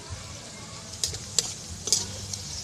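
Pointed gourd pakoras frying in hot oil, a steady sizzle with a few sharp clinks of a spoon or ladle stirring in the pan, no talking.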